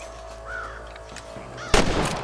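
A single sharp gunshot in the Western game Red Dead Redemption cracks loudly near the end, followed by a noisy burst and ringing tail after quieter ambient sounds.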